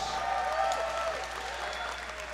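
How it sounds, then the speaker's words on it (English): Applause for two heavyweight fighters at a Coveted Fighting Championship bout, a steady wash of clapping from a crowd, fairly loud and continuous throughout with faint voices beneath it. "a big round of applause for both of these CFC heavyweight warriors"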